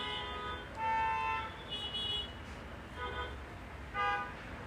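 Car horns honk at a distance in several short bursts against steady low traffic rumble, the loudest blasts near the start and end.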